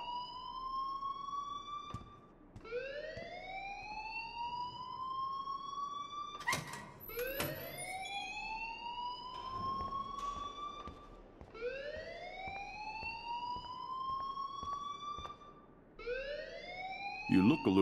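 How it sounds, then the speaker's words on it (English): A school alarm in the video game Life Is Strange wails in repeated rising siren sweeps, several cycles in a row, loud and steady while people talk over it. "please turn off that alarm since that's your job."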